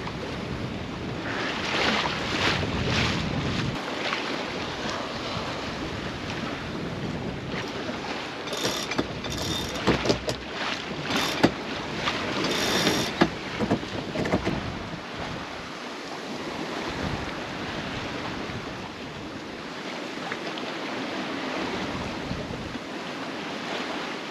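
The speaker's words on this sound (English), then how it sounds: "The wind and the seas are very mellow right now." Following seas rushing and washing around a sailboat, probably in the Tasman Sea or Cook Strait, with a continuous surge of waves and wind buffeting the microphone.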